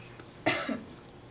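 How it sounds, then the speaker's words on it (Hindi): A single short cough, close and fairly sharp, breaking a quiet background with a soft trailing breath. "खांसो।"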